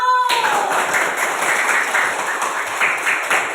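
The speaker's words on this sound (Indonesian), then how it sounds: "tepuk tangan untuk kelompok 1" Classroom students clap for a group that has just presented, a quick burst of mixed hand claps that starts abruptly and continues steadily at moderate level.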